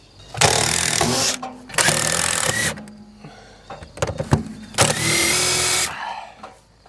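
A power drill drives Cortex screws into flexible PVC board for board-and-batten trim, three loud sustained whirring bursts separated by clicks and handling noise, close up.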